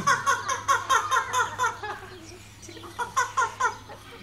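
At a bird show at Fresno Chaffee Zoo, a bird mimics a hen's clucking in quick rhythmic bursts, a first run of rapid clucks, a pause, then another short series close by.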